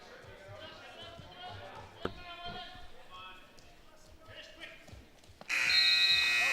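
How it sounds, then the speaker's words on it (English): At a high school wrestling match, a period-ending buzzer blares loud and sustained at the close, cutting in over crowd chatter and gym noise. "And buzzer sounds."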